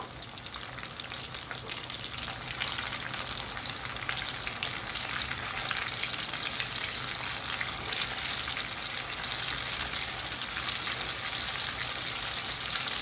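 Breaded chicken pieces fry in very hot oil over a high flame for crispy KFC-style chicken, giving a loud, steady, close sizzle that holds unbroken throughout with no voices.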